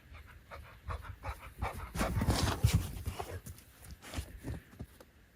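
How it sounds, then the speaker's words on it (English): Puppies gallop through snow, with quick rhythmic panting breaths and soft crunching paw falls close by, in uneven bursts that swell in the middle and ease off. "Lots of galloping puppies."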